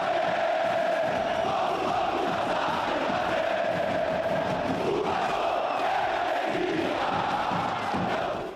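Vasco da Gama supporters roar and chant in a large stadium crowd after a derby win over Botafogo, a loud sustained mass of voices with rising shouts and whoops.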